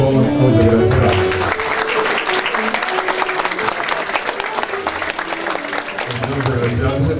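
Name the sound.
applause for the honorees at a ceremony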